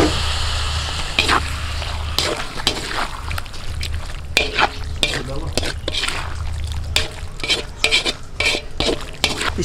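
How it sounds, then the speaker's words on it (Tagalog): Pork bubbles and sizzles in its own juices in a pot outdoors, with intermittent clinks and stirring scrapes over a steady low simmer. "kumukulo na yung tubig ba na na-produce ng karne natin"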